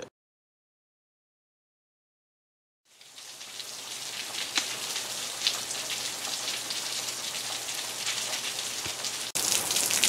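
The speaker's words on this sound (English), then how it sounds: "It's actually raining." Light rain patters steadily on surfaces as Hurricane Isaias arrives, starting after a few seconds of silence and holding an even, close hiss of drops with occasional louder splashes.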